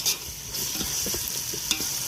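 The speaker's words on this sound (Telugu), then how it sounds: "అల్లం పేస్ట్ అయితే మంచిగా వేగిందండి" Tomatoes and ginger paste fry in a pan for tomato rice, a soft sizzle broken by a few scraping stirs of a spoon, close and quiet, with no voices.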